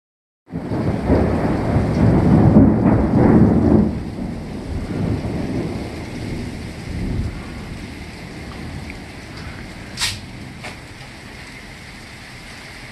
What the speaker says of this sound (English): We got a mixture of rain and snow and frequent thunder and lightning right here